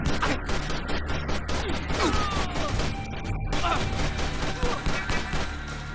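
Rapid gunfire from a cartoonish third-person shooting-gallery video game, dense bursts of shots with clanks and impacts, loud and continuous, under a voice.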